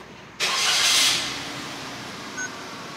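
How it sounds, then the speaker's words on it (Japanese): A Suzuki car's engine is started during a dealer inspection: a sudden loud whoosh and roar as it catches, then settling into a steady, quieter idle hum nearby. "はい、エンジンかけます。"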